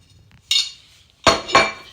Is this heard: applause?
no